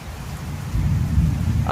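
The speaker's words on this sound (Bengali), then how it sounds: "দেখুন কি সুন্দর বৃষ্টি হচ্ছে উড়িষ্যার বালেশ্বর জেলায় আজ" Morning rain falling in Balasore district, Odisha, a steady broadband hiss of downpour with a heavy low rumble swelling partway through, close and continuous, no voices.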